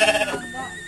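A single sheep bleats briefly in a rural village, a short wavering call that fades into quiet background noise.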